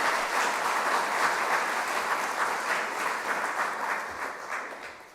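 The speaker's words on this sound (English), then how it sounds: "yes, he deserves a round of applause" An audience at a professional development day opening session gives sustained applause, a dense, even patter of many hands that holds steady before tapering slightly at the end.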